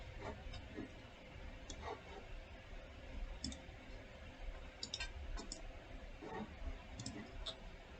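Sharp computer mouse clicks come in scattered single and double presses during drafting work at a desk, close and fairly faint over a steady low room hum.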